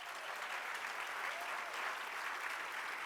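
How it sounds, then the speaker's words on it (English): An audience at a union address claps in a steady, dense round of applause lasting the full three seconds without talk over it. "Give yourselves a round of applause for that."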